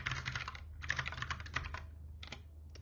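Bursts of rapid typing on a computer keyboard, close and clear, with several quick runs of keystrokes separated by short pauses.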